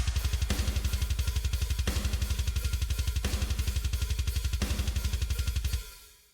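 A programmed MIDI drum pattern plays back at a steady, fast pulse, with an even run of hi-hat ticks and repeated heavier snare hits spaced across it, loud and close with no voices, before cutting off and decaying at the end.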